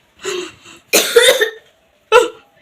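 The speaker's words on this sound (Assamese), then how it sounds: "কোনোবাই কাহি আছে" A person coughs three times, close and loud: a short first cough, a longer harsh double burst, then one sharp final cough, with silence between.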